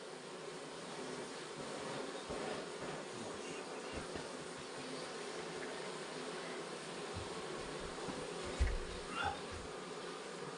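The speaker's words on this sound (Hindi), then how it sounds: "ये है हमारा पहाड़ी मधुमक्खी के छत्ते। ये अब इससे हम भगा रहे हैं अभी मधुमक्खियाँ को।" Mountain honeybees swarm around their hive in a hillside village in Uttarakhand as honey is harvested, a dense continuous buzzing drone with a few louder bumps and handling knocks near the end.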